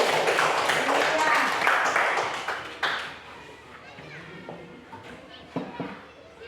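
Schoolchildren in a classroom clap their hands in a loud burst of rapid claps lasting a few seconds, which then fades into scattered taps while a voice speaks.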